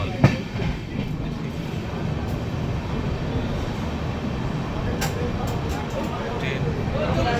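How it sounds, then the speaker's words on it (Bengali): A train from North Bengal rolls into Murshidabad Junction with a steady heavy rumble and faint rhythmic clatter of wheels, close and continuous, while a crowd murmurs and voices talk in the background. "আলটিমেটলি সেকেন্ড ট্রেন ঢুকে গেল মুর্শিদাবাদ জংশনে ফ্রম নর্থ বেঙ্গল।"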